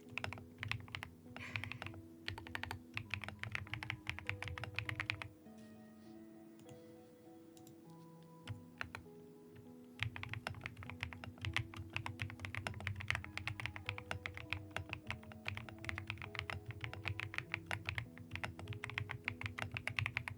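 A thocky mechanical keyboard fitted with marshmallow keycaps is typed on steadily, with dense close muted clacks in fast runs, a quieter pause mid-way, then resumed rapid typing under faint background music.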